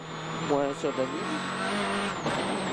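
Sebastien Loeb's rally car running flat out on a tarmac stage of WRC Rally Bulgaria, heard from inside with a sustained engine drone and sharp rising revs as it shifts, under a co-driver's voice.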